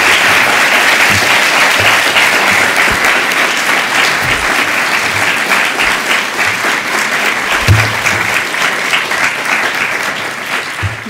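An audience claps after a talk on textile dyeing and printing, a loud, sustained round of applause that holds steady and then tapers slightly.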